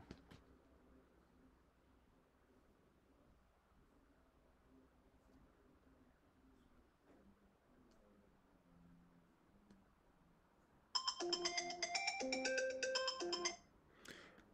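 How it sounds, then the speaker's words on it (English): A phone notification tone repeats as a rapid burst of bright electronic beeps for a few seconds, standing out loudly after a long stretch of quiet low background hum. "I don't even want this notification. It's going to continuously do this"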